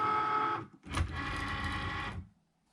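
A Cricut Maker cutting machine loading the mat: a short motorized whir, a brief pause, then a longer steady mechanical hum that stops abruptly, close and moderately loud.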